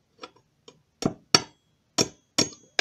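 Several sharp hammer strikes on a wooden spatula handle being knocked apart, irregularly spaced, some light taps then harder blows, close and clear with quiet between.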